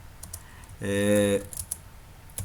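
Fingers type on a computer keyboard with light, close clicks, ending in a press of the Enter key, while a short hummed voice sound rises briefly in the middle.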